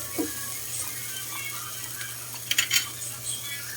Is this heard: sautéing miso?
yes